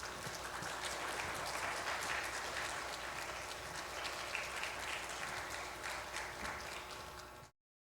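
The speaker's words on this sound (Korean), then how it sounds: "우리 주님의 이름으로 큰 박수로 환영하겠습니다." Sustained congregational applause at a Korean church Sunday morning worship service, welcoming the pastor to the pulpit; dense, steady clapping from a large crowd in a hall, continuous for about seven seconds before cutting off.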